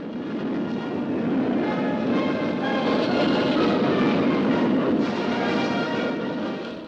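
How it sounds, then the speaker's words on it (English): Ten Soviet Tu-95 long-range bombers pass overhead at the Moscow Air Show, a continuous heavy rumbling engine drone that holds steady and loud throughout, on a dated, band-limited recording with no voices. "overhead flew 10 long-range Tu-95s, capable of delivering a nuclear bomb all the way to America"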